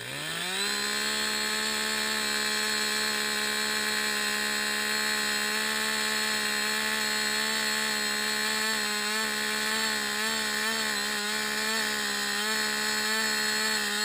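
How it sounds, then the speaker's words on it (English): A chainsaw drones at high revs while cutting through a big tree, a loud, steady buzzing whine held for the whole stretch, with slight wavering in pitch as the chain bites deeper toward the end. "The speed of cutting depends on various factors, including the size and type of the chainsaw"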